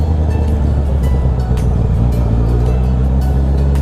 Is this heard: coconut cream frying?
no